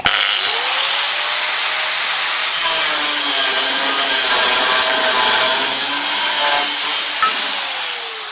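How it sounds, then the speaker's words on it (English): A disc cutter grinding through the metal of a Land Rover Defender 130 bulkhead during a firewall repair, a loud, steady, high-pitched whine held for several seconds before tapering off. "I'll just zip that off with the disc cutter and bolt that on."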